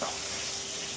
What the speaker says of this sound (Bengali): এই যে ফুটছে।